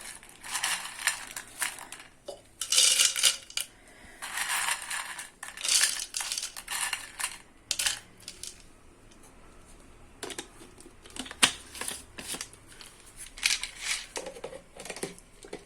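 Dried chikoo (sapodilla) pieces being crushed in a grinder on pulse mode, with short on-off bursts of rattling, crunching whir separated by brief pauses, fairly close and moderately loud.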